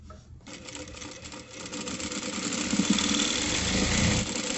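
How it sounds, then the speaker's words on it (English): A sewing machine stitches a shift dress fabric with a 1/2 inch seam, giving a steady, close mechanical whir that runs continuously and grows slightly louder, with no talking. "Going to start sewing this way."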